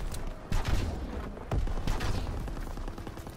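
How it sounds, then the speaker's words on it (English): Gunfire is aimed at infantry beside a tank in Call of Duty: WWII. Bursts of rapid shots crackle loudly in two main volleys over a rumbling battlefield background. "They fire on the infantry by the tank."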